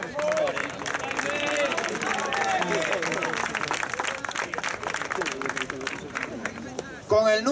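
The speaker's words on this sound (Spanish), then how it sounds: "Un aplauso fuerte para ellos" Crowd at an amateur bodybuilding open, muscle model short category, applauding competitors leaving the stage: continuous dense clapping and cheering throughout, with an announcer's voice over the noise and a louder burst near the end.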